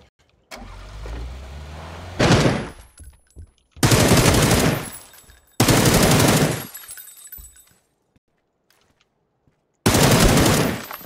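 Gunfire in a video game: four loud, dense bursts of rapid shots, each lasting one to two seconds, separated by short silent gaps, with a faint murmur of voices before the first burst.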